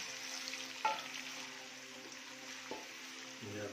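Onions frying in hot ghee for an aloo mongray dish, a steady soft sizzle with a couple of brief clinks or stirring knocks.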